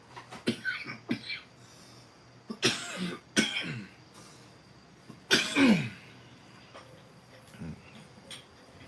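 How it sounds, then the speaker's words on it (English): A person clears their throat several times in short, rough bursts, with brief pauses between, close to the microphone and otherwise quiet. "Clear my throat."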